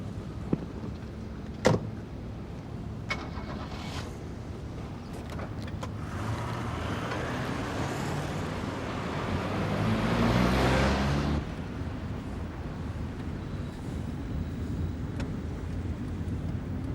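A car starts and pulls away in pursuit on a street in a 1991 police drama, with a door thump and clicks first, then engine noise swelling as it drives off and fading into the background.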